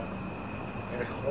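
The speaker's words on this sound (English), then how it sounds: "A lot of cicadas out tonight. I can sure hear them." A constant high, shrill drone of cicadas at night at Wallops Island, steady and moderately loud with no other sounds.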